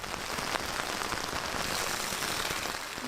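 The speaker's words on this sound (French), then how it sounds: "Aujourd'hui, on est sur une journée de pluie." Steady rain falls throughout in Tuscany, a dense continuous patter with scattered individual drops striking a nearby surface. No voices.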